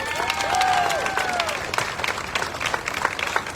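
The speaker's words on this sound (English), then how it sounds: "Let's have one more round of applause for all the red shirts." A festival audience gives a round of applause for the red-shirted volunteers at an opening ceremony, dense crowd clapping close by, with a brief whistle or cheer early on over the steady clapping.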